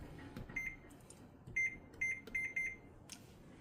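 A kitchen timer being set while baking a tamale pie, giving a series of short electronic beeps at irregular intervals, fairly faint against a quiet kitchen background.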